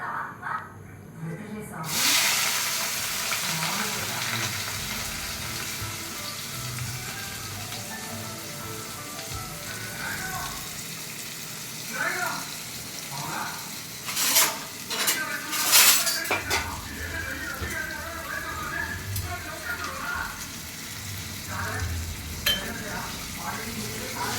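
Onions and green chillies dropped into hot oil for drumstick curry, a hissing fry under loud clattering of utensils and pan knocks, with a voice speaking at times nearby.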